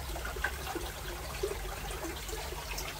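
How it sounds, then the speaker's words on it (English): Water from a garden pond pump return splashes and trickles steadily, a soft continuous burble with small droplet plinks over a low hum, fairly faint and with no voices. "The return is splashing a little bit more than I'd have liked."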